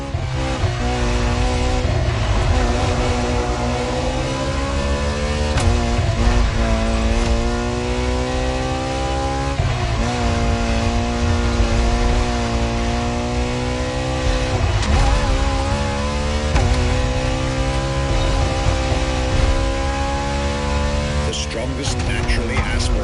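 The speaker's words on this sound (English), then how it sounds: "Strongest naturally aspirated Ferrari V12 to date, marking Ferrari's first steps into hybrid technology" Ferrari's strongest naturally aspirated V12, a hybrid, revs hard in The Crew Motorfest racing game, its loud engine pitch climbing and dropping through repeated gear changes, with tire squeal and continuous music or commentary layered underneath.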